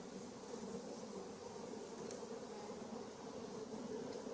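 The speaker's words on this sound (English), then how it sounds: "Lots of bees here." Honey bees swarm around an open hive box, a dense, steady buzzing drone that stays close and even throughout with no voices.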